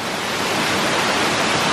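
A waterfall roars steadily at the foot of a cascade along a small footpath, a dense continuous rush of falling water heard close and alone.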